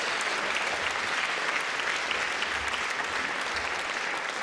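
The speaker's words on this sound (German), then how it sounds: "Aber nett, dass Sie klatschen." Steady studio audience applause in a wine-tavern-style Schlager TV show set, dense and continuous clapping at an even level throughout.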